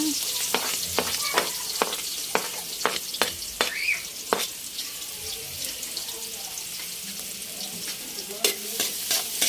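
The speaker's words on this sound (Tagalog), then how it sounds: "Gisa na natin pong sibuyas at bawang." Onion and garlic sauté in a pan for spaghetti sauce, with a constant bright sizzle and a rapid series of spatula knocks and scrapes close by.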